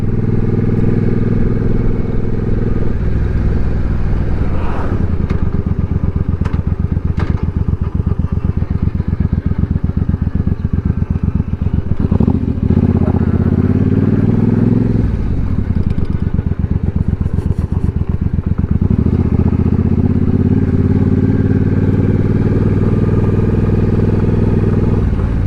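A motorcycle rides through town past an old high school and former football field in Rome, Georgia, its engine droning steadily and loudly throughout with brief throttle changes and some clatter.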